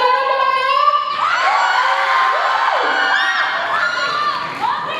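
A crowd at a band competition yells and cheers loudly and continuously, with high excited shouts and whoops rising from many voices, some sounding like children.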